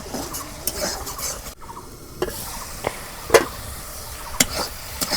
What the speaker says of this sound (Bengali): সুন্দর করে শুটকি মাছ কষে নিতেছি।